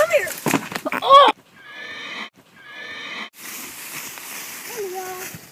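A horse neighs in several loud, bright whinnies, alone and close, and hoofbeats clop through the middle. Splashing water and rain-like noise follow.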